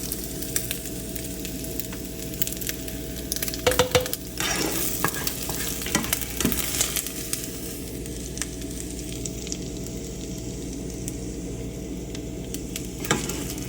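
Chopped Hillshire sausage stirred through country gravy on a switched-off stove, with steady scraping and stirring strokes over a soft simmering sizzle, a few louder clinks of the utensil against the pan near the middle.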